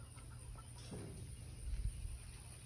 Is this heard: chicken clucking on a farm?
yes